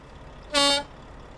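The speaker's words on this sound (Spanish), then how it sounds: "Voy a tocarle el claxon para que se mueva." A truck horn in the streets of Rome gives one short, loud, bright honk lasting about a quarter second, standing out alone against a quiet engine background.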